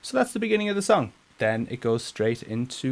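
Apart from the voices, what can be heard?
None of the usual background noises is heard.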